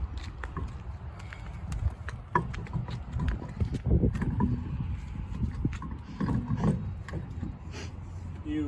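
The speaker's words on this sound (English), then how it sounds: "You take your lug nuts, I'm just gonna get these started." Metal lug nuts are threaded by hand onto a car wheel during a tire change, giving soft, irregular clicks and ratcheting taps close by over a low background rumble.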